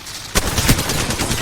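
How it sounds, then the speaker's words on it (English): Gunfire in Apex Legends, a loud close burst of rapid shots that starts abruptly and carries on through the short moment. "Je suis sous les tirs."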